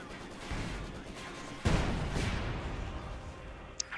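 Close-quarters artillery barrage in Company of Heroes 2, a single heavy blast that hits the ongoing battle noise mid-clip and leaves a rumbling, crackling decay with scattered smaller impacts.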